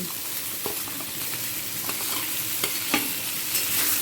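Potato, carrot, pumpkin and egg sizzle steadily in a pan, with scattered sharp scrapes and knocks from stirring, close and fairly quiet.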